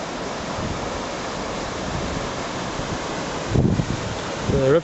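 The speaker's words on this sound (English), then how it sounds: "The River Tilt." The River Tilt flowing through Glen Tilt near the old Bridge of Tilt, a steady broadband rush of moving water heard up close and fairly loud, with brief wind buffeting and a faint vocal sound near the end.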